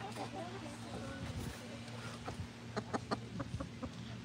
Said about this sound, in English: We got two beautiful mama hens.